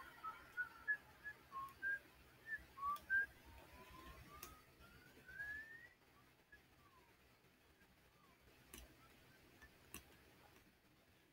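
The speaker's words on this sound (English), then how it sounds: "Have a really nice whistle, dude." Whistling in the video game Sparky Marky comes as a quiet melodic run of short rising and falling notes, then a long upward glide, with faint ticking clicks scattered behind it.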